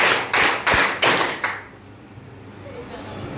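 Children clap their hands in unison during a listening game, five sharp claps in a quick, even rhythm, close and loud, followed by quiet room tone.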